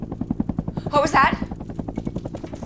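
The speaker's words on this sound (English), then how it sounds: "It's the chopper!" A helicopter in a film approaches with a rapid, loud rotor thumping pulsing steadily throughout, while a person yells over it in the middle.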